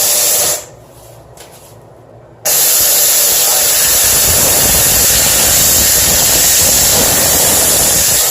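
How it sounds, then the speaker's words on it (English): A HomeRight pressurized steam cleaner with a steam head sprays onto very dirty toothbrushes in a bathroom, making a loud, steady hiss that briefly drops away and then surges back continuously. "This pressurized steam head."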